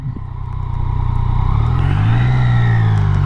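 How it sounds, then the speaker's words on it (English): Yamaha XSR 900 three-cylinder engine revving steadily upward, a loud close deep drone with rising harmonics and a faint whine, no voices. "I think the one thing I have noticed though, certain revs, it seems a little bit whiny."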